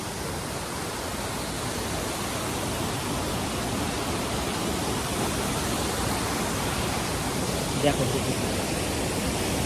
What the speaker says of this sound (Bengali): নিচেটা দেখতে পাচ্ছ কত জলের স্রোত